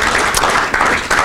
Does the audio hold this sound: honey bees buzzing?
no